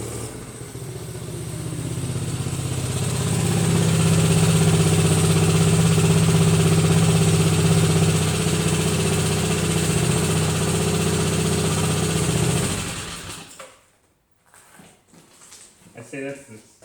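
A mini bike engine runs loud and close with a steady, throbbing idle for about thirteen seconds, then cuts out, leaving faint rustling and handling noises.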